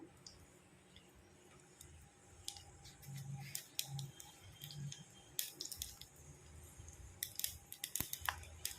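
Mustard seeds spluttering in hot oil with chana dal and cumin while tempering for beetroot chutney: sparse, quiet crackles and sharp pops scattered irregularly, growing busier toward the end.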